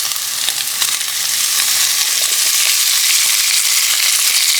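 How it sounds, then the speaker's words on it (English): Cut sun-dried tomatoes in olive oil sizzle hard with garlic scapes in a hot pan, a dense, loud crackling hiss that holds steady throughout. Faint stirring clicks sit underneath, and nobody talks. "So now I'm adding 1 small jar of sun-dried tomatoes in olive oil that I've cut up."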